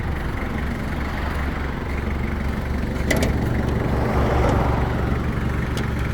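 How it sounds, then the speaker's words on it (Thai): A 1999 Toyota Hilux Sport Rider 4WD with a 5L diesel engine runs at idle, a steady low rumble heard up close that swells slightly partway through. "นี่นะฮะเครื่องยนต์ 5L นะครับ เครื่องยนต์ 5L ธรรมดานี่แหละครับ"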